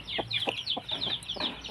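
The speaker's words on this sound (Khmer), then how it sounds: "ណានេះមាន់ក្រាបពង" A hen sitting on eggs in a backyard coop clucks in a quick series of short, close, soft calls with a steady uneven rhythm.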